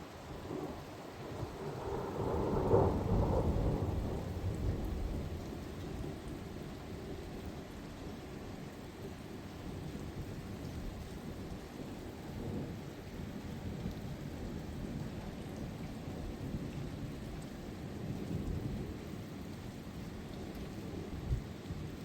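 Thunderstorm in Isère, France, in February, with a loud rumble of thunder early on that fades into steady, continuous rain falling on surfaces for the rest of the stretch.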